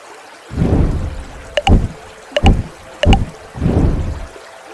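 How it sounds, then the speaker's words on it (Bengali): A rowboat heads slowly out to the middle of a river, oars dipping in a steady rhythm of four or five close, splashing strokes with a faint gurgle of water between them. "ওরা নৌকায় ওঠে, ধীরে ধীরে নদীর মাঝখানে চলে যায়"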